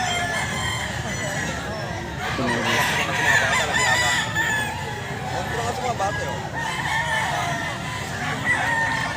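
Roosters crow repeatedly at Grotto Pet Market, several loud calls overlapping amid clucking fowl and a busy market bustle, with voices talking nearby.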